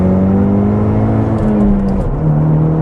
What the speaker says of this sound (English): Let's drop her down into second here and ride it out.